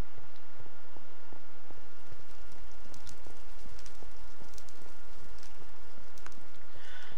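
Steady rain falls in a Minecraft world, a continuous hiss with scattered soft drops, evenly spread and moderately loud throughout.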